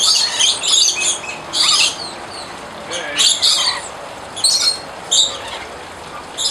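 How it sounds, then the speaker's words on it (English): Small birds chirp and tweet in repeated short bursts close by at a nectar-feeding aviary, sharp high calls coming every second or so over a quiet background. "What, Elizabeth, you want to feed the birds?"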